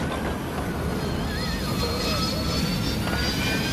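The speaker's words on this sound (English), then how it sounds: "Like, guys, the plane's crashing." An airliner goes down in the crash scene of a Final Destination film, heard as a loud, steady, roaring engine rumble with a faint whine drifting on top and no clear speech.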